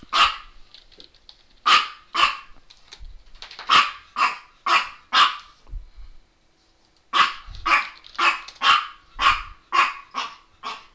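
Several dogs bark loudly and close by in repeated bursts, with a brief lull partway through before the barking picks up again in a fast series.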